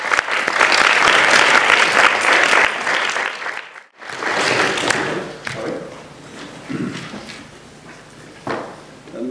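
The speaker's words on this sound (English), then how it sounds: "Big round of applause." Loud, dense applause from a debating society audience fills the room, breaks off abruptly, then returns more sparsely with scattered claps and shuffling before fading.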